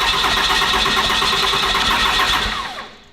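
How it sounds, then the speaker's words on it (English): A Cummins diesel engine swapped into a Rolls Royce cranks over loudly and steadily for about two and a half seconds, a dense mechanical churn that fades out at the end without a clear catch. "Either it's gonna fire up and idle, or it's gonna fire up and go to full throttle because it thinks the pedal's all the way down."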